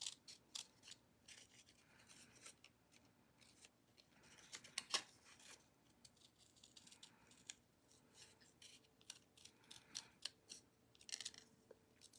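Hinge-style scissor blades snip and click repeatedly at close range cutting paper for card making, irregular bursts of cutting with quiet pauses between, no voices.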